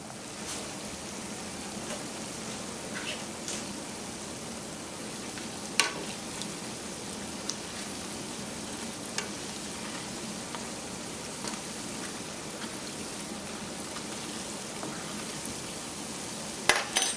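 Pholourie frying in hot oil, a steady soft sizzle running throughout with occasional faint clicks, no talking.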